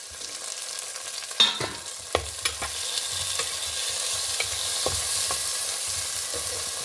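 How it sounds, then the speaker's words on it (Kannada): Onion and tomato for a cabbage curry fry in a pan, a soft steady sizzle broken by several sharp scraping and tapping stirs of a spoon against the pan. "ಒಂಚೂರು ಈರುಳ್ಳಿ ಕಲರ್ ಚೇಂಜ್ ಆದ ಕೂಡಲೇ 2 ಟೊಮೆಟೊ ಹಾಕೊಂಡಿದೆ ಕತ್ತರಿಸಿ"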